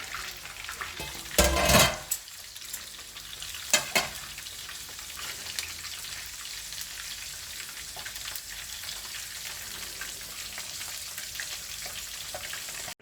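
Fish fries in reused oil for biryani, a continuous close sizzle and spatter with a couple of sharp bursts of loud crackling early on, as when pieces are dropped in or turned.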